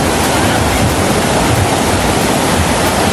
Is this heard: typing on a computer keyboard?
no